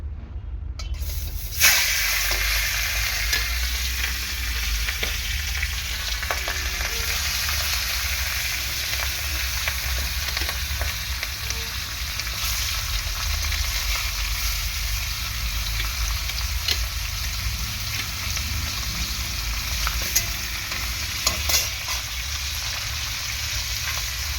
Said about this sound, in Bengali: তেল ভালোভাবে গরম করে নিয়েছি, এখন মাছের মাথাগুলোকে ভালো করে আমার ভেজে নিতে হবে।